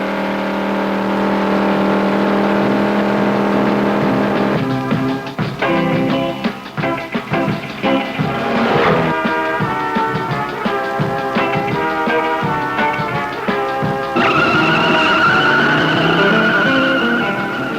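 A 1968 AMX, a 3,000-pound car on wide oval tires, launches from the line with wheel spin. The engine note climbs through shifting tones with squealing tires, loud and close throughout.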